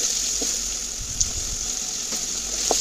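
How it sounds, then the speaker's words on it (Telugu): Sliced onion and curry leaves fry in oil for egg curry, a steady close sizzle with occasional soft stirring scrapes and small pops, no talking. "అందులోనే 1 ఉల్లిపాయ ముక్కలండి వేసి బాగా వేయించుకోవాలి."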